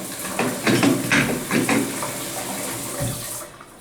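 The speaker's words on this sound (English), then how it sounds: "Go ahead and set that back to full shower head." Running water from a hotel bathroom shower head splashes and patters unevenly, fairly close, then tapers off near the end.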